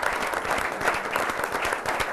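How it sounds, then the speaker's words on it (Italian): Audience applause at a Calcio Padova football club presentation event, a steady wash of many people clapping, dense and continuous at moderate loudness. "un applauso anche a loro"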